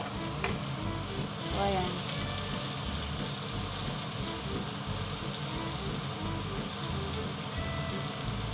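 Onion sautés in hot oil with garlic for a fish dish, making a loud, steady, rain-like sizzle with occasional stirring. A voice speaks briefly.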